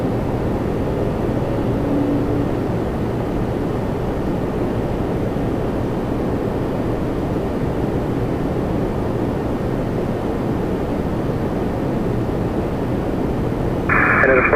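An Air Canada Boeing 787 Dreamliner at Toronto Pearson produces a continuous, even engine rumble and rush, steady and moderately loud for the whole stretch, with brief radio chatter near the end.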